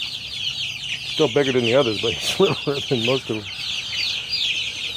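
Pastured broiler chickens cluck in a quick series of close, nasal calls over a constant high hiss of farm background, while someone talks briefly over them.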